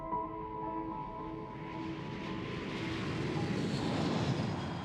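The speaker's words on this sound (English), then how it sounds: "From the deafening roar of jet engines" Jet engines roar on the flight deck of a US aircraft carrier, a loud, continuous rumbling whine that swells and broadens as it goes on, with no voices.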